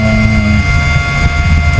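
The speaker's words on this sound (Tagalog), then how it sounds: "Bali blower lang itong matunog." A blower runs loudly and steadily during a test of a 38000 W inverter under repair, a dense, continuous mechanical whir with a humming tone and no talking.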